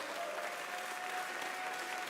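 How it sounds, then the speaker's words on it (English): An audience applauds racers on stage at a Nintendo esports championship, a dense, even wash of clapping from a large crowd, loud and continuous with no speech on top. "give a massive round of applause for these incredible racers on the stage"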